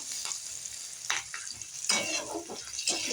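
Green chillies sizzle and fry in a pan with black cumin seeds, a steady crackling hiss broken by a few louder bursts of stirring, close and alone with no talk.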